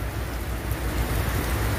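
Steady, heavy rain falls in Jeddah, Saudi Arabia during a November storm, giving an even, dense hiss of drops on surfaces with no voices.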